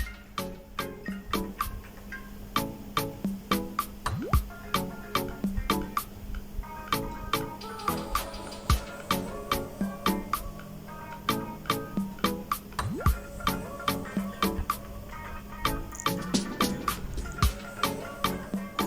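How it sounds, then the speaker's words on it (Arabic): Carrots and potatoes fry in a pan, with a steady sizzle and many sharp popping crackles repeating throughout, close and fairly loud. "نضيف عليهن الجزر والبوتيتي. شوفوا نبقى نحمس بهن"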